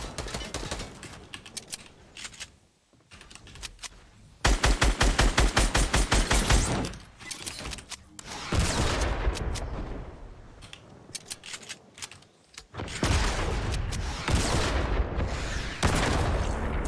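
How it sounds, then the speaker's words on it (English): Gunfire in the Fortnite video game, a duos match: rapid bursts of shots come in several loud clusters across the stretch, with players talking over the action in between. "Are you shooting? Yes, you're shooting."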